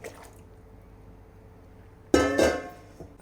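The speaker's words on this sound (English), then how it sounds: "I'm going to add the marinated chicken." Marinated chicken for a Bengali chicken rezala hits a hot cooking pan with a sudden loud sizzle and splatter after a quiet stretch, then fades with a second smaller burst.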